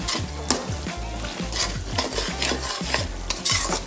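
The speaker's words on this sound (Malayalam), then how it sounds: "ഇനി നന്നായി നമുക്ക് തേങ്ങ ഇങ്ങനെ പൊരിയാൻ ഇളക്കിക്കൊണ്ടിരിക്കാം." Coconut fried in a pan while it is stirred steadily, giving a continuous sizzle with repeated scraping strokes close by and no talking.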